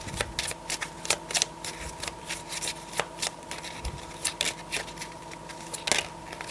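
A deck of oracle cards is shuffled steadily by hand, giving a close, continuous riffle of flicking and slapping card edges with small rhythmic peaks and no voices.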